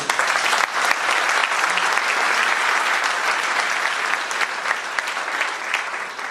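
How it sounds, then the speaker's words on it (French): Sustained applause from a conference audience for a French minister, dense and steady clapping filling the room for several seconds before tapering slightly. "j'aimerais qu'on l'applaudisse encore une fois, monsieur le ministre"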